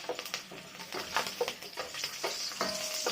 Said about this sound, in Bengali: একটু ভেজে তারপর দেবো পেঁয়াজটা ভালো করে ভেজে নেবো।